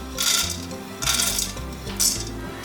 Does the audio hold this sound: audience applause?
no